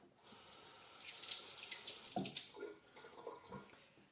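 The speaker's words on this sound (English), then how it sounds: "Just rinse my hand." Tap water runs steadily into a kitchen sink while a hand is rinsed during pheasant preparation, a close, continuous splashing stream with slight shifts in tone as the hand moves.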